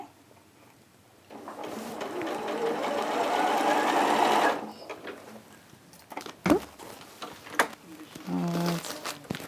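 A sewing machine stitching a vintage tiles quilt runs in one steady whirring burst of a few seconds, then stops, followed by scattered clicks, knocks and handling noises.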